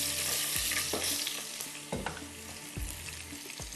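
Garlic frying in butter in a pan for steamed butter rice, a steady close sizzle with several sharp clicks and scrapes of stirring spaced through it, no talking.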